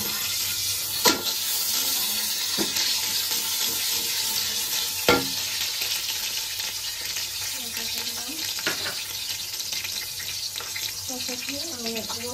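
Onion paste fries in oil for khichuri, a constant close hiss with a few sharp spoon knocks and scraping strokes as it is stirred, occasional soft voices faintly underneath.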